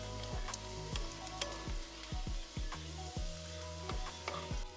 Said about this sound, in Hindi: सुन सकते हैं कितनी मधुर आवाज़ आ रही है तड़के की।